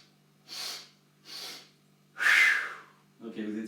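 A group inhales and exhales together in a breathing exercise, with three separate airy breaths at a steady pace followed by a short spoken voice over a faint hum.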